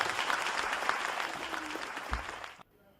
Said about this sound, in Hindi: आप लोग जोरदार तालियां बजा करके उनका स्वागत करें